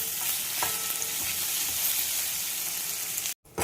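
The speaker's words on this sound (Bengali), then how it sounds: "দেখো এটা আমি 2টো পেঁয়াজ লম্বা লম্বা করে কেটে নিয়েছি, এটা আমি ভেজে নেব" Two long-sliced onions frying in oil for beresta for biryani give a dense, steady, close hiss of sizzling with faint stirring, cutting out briefly near the end.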